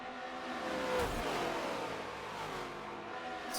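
Race cars in a NASCAR racing video game run three wide down the back stretch at Indianapolis, a steady, moderately distant engine drone with a slight rise and fall and no talking.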